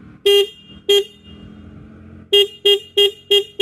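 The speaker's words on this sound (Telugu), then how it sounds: "ఒకసారి హార్న్ సౌండ్ అయితే విందాం." Horn of a 2025 Bajaj Pulsar RS 200 motorcycle, sounded in two single toots and then a rapid run of five short honks, loud and close, with no talking.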